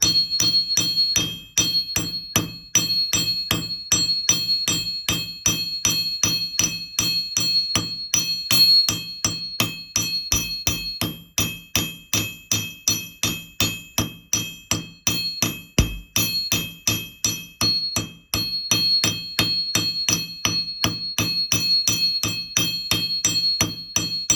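Steady, rapid hammering on a small copper earring, dozens of sharp metal taps in a fast even rhythm with brief pauses, close and fairly loud.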